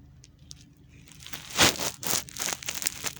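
Scissors cut through skirt fabric pieces with crisp snipping and crinkling sounds, building into a steady, close run of cuts with no talking.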